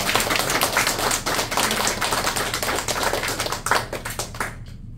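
A church congregation claps for a guest pastor during a Sunday service, steady dense applause for about five seconds before stopping abruptly.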